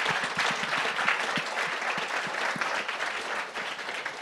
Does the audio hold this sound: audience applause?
yes